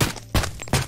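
AK Alpha rifle in 7.62 fired in the VR shooter Ghosts of Tabor: three sharp, loud shots spaced about a third of a second apart, each with a short ringing tail.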